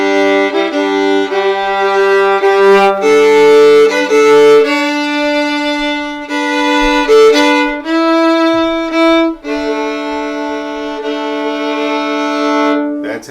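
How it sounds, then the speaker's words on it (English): A string instrument plays a double-stopped passage, sounding two notes at once in a steady series of sustained, ringing chords that change every second or so, heard up close and alone. "So when I double stop that whole passage,"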